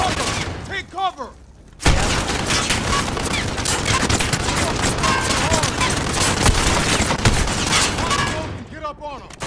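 Dense, continuous gunfire and explosions from Call of Duty Modern Warfare, loud and sustained for most of the stretch, with shouted voices before and after the barrage.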